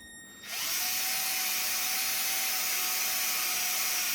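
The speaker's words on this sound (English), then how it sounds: "I got a small pilot drill bit ready to go." A small pilot drill bit bores into an engine valve cover, starting with a sudden high whine that holds steady and loud at close range, with no talking.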